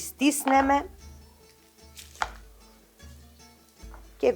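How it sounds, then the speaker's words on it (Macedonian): A kitchen knife slices garlic cloves in half on a cutting board, giving a few distinct chopping knocks spread through the clip, close and fairly crisp, with an earlier burst of clatter and quiet stretches between cuts while peppers cook. "А во меѓувреме ќе го пресечам лукот на половина"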